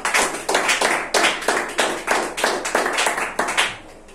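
Church congregation applauding the Lord, close, rhythmic clapping in a steady pattern of repeated bursts, several hands striking together at a regular beat with no voices over it.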